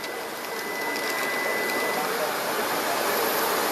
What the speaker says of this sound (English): X plus, and the spindle will move.